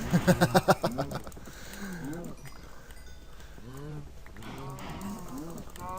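Blocky Minecraft cows low in a video game, a burst of rapid stacked calls at the start followed by scattered moos, under steady game background.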